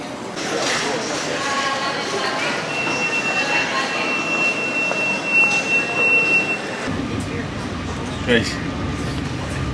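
An airport train to Paris rumbles steadily nearby with a faint squeal of wheels, while people talk over the noise; the rumble drops off partway through.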